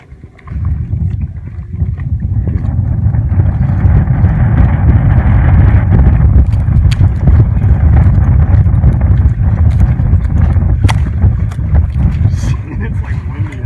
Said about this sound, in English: It's like windy out.